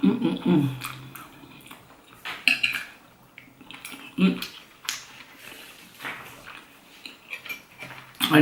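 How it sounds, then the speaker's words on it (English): A metal fork clinks and scrapes against a plate while someone eats curry chicken with kale, giving sharp, close taps at irregular intervals, mixed with chewing and a talking voice. "I knew this fork would come handy."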